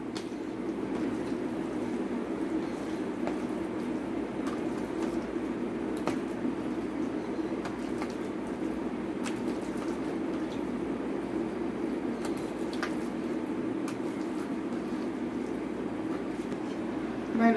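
Rice boils in a covered pot, a steady low bubbling rumble with faint pops and crackles continuing evenly throughout, with no voices.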